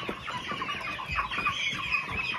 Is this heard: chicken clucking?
yes